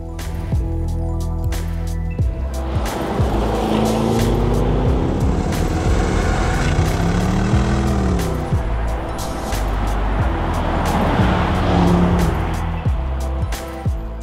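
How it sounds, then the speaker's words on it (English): A 386 kW Land Rover Defender 90 V8 drives hard with a loud, continuous engine roar whose pitch climbs and falls between gears, accompanied by squealing tires and sharp clicks of gravel or road noise. "This is the 386 kilowatt Land Rover Defender 90 V8"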